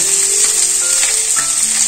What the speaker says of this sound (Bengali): এইদিকে মাছগুলো সব ভাজা হয়ে গেল।